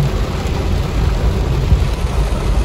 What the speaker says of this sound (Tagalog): Mas lumala yung ulan.